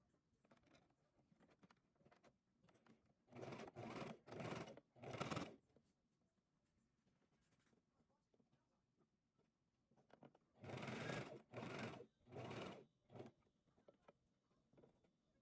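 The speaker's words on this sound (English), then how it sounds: "I'm just going to sew a 1/4 inch all the way down" A sewing machine stitches a quarter-inch seam along a muslin wallet pouch in two separate runs, each a cluster of four short, loud mechanical bursts, with quiet pauses between the runs.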